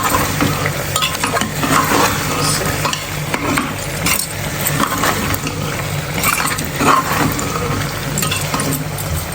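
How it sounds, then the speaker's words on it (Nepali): Tomatoes sizzle and crackle steadily in a hot pan, with occasional scraping and stirring against the metal. "म यसमा एड गर्छु टमाटर। टमाटर एड गर्छु।"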